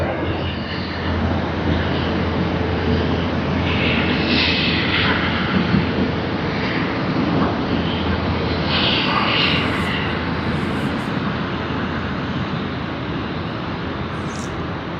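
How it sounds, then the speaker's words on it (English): A Delta airliner in its 100-year anniversary livery taxies toward runway 34L at Sydney Airport, its engines giving a steady, moderately loud broadband roar with no speech. "Delta's 100 years anniversary livery. It's just taxiing to runway 34L."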